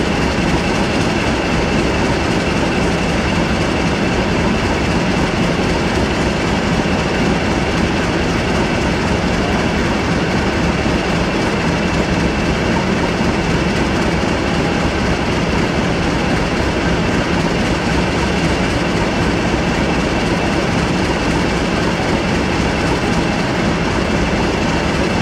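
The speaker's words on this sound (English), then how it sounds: "here came 5B62, the 1005 cross country service to Glasgow Central" A CrossCountry passenger service to Glasgow Central passes close by, a loud, steady roar of wheels and rail noise with faint clickety-clack that fills the whole stretch without a break.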